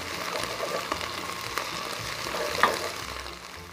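Okra with a couple of spoonfuls of tomato paste frying in a pot, giving a steady, soft sizzle with faint crackles and a few small pops, close by and with no talk.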